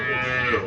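A Sahiwal calf at a cattle market gives one drawn-out, close moo that fills the short moment, with no talk over it.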